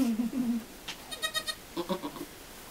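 A goat bleats during birth on a small farm: a short low cry at first, then a string of rapid, quavering bleats that are close but moderately quiet.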